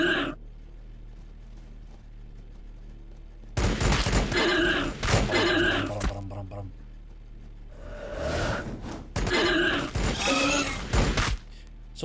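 Pistols fire in Warhammer 40k BattleSector as loud bursts of rapid shots in two clusters with a quiet stretch between, mixed with game voice lines and commentary.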